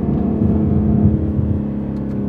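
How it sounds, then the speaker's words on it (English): A BMW G80 M3 Competition with a Fabspeed turbo-back exhaust holds a steady, deep, droning rev, heard loud and continuous from inside the car. "they really want to hear, you know, the sound of their exhaust"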